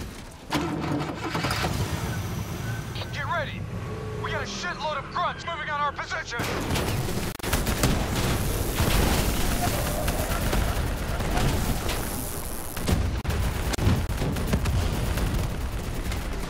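Rapid, continuous bursts of gunfire from a vehicle-mounted turret in Call of Duty Black Ops 3, loud and sustained over engine rumble and battle noise, with voices at times.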